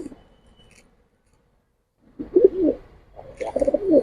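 Pigeons of the Giribaz, pankhi and jelly pankhi type, including a costly BTFC bird, give two short bursts of cooing after a quiet stretch. The calls are close and moderately loud, with no talk.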